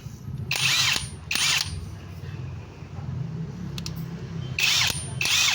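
A Keelat brushless cordless impact wrench rated at 420 Nm fires in four short, loud hammering bursts, two near the start and two at the end, over a low steady background hum.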